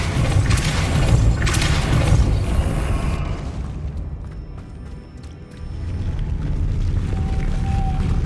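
A Depulso force spell cast in Hogwarts Legacy on PS5 Pro lands as a loud, booming burst over dense game ambience, fading after about three seconds before the rumbling background swells again.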